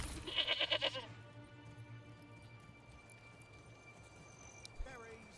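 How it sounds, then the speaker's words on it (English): Goats in the medieval city-building game Manor Lords, kept near a market, let out a short burst of loud, wavering bleats. A quiet ambience with faint distant clatter follows. "I feel like goats making noise at all the passers-by who are going to shop at the market"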